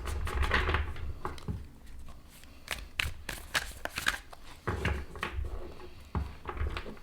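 Quick papery riffling and snapping of a tarot deck being shuffled, in irregular bursts with soft thumps as the cards clump together, close up.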